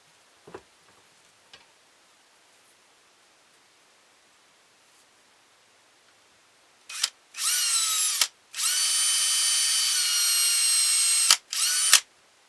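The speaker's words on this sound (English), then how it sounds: "we're going to take our drill, we're going to just drill a little pilot hole in here" A power drill whirs in several bursts, with short pauses between them as it bores a pilot hole into wood for a ventriloquist dummy, after a few faint knocks; no talking.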